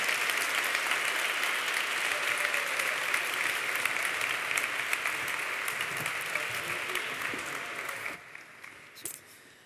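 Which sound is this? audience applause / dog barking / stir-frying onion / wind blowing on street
audience applause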